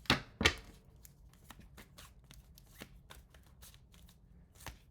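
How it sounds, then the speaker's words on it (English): Tarot deck being shuffled by hand, an oversized stack of cards: two loud riffling bursts at the start, then a steady run of softer card flicks and slides, close and alone. "I have too many cards, guys. It's so hard to shuffle."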